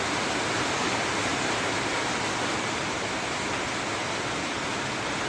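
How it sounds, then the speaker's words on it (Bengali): Heavy rain pours down during a thunderstorm, a dense, unbroken roaring hiss that stays loud and even from start to finish with no voices over it. "এত জোর বৃষ্টি হচ্ছে,"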